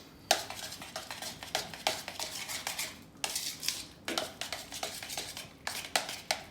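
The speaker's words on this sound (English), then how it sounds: "All right, get that stirred together." A spoon clinks steadily against a bowl as mayonnaise is stirred into egg yolks, giving repeated close scraping taps in a brisk rhythm with brief pauses and no talking.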